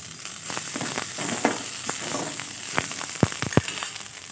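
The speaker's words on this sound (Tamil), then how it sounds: "இதையும் ஸ்லோ ஃப்ளேமில் வச்சு நல்லா வறுத்து எடுத்துக்கோங்க." Idli podi ingredients dry roasting in a pan over a slow flame, a steady dry crackle and rustle with sharp scraping strokes near the end, close and fairly loud, no voices.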